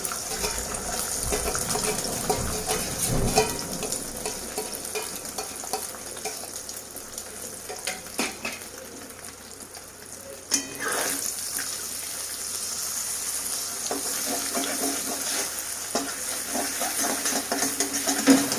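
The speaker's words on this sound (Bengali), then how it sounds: "তেল গরম হয়ে গেছে, ডিমটা দিয়ে দেবো, ফেটে রাখা ডিম।" Beaten egg fries in hot oil in a wok for an egg bhujia, giving a continuous loud hiss and sizzle that runs throughout, with a few brief scraping knocks along the way.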